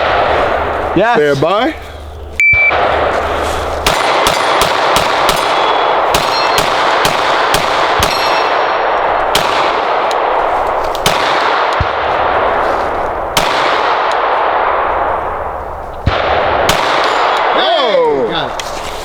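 Pistol fire from a Glock 17 and a Walther PDP cracks in rapid strings at steel targets, each shot loud and sharp with metallic rings, with brief talk at the start.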